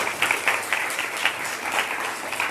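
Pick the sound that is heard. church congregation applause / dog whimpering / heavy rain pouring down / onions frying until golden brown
church congregation applause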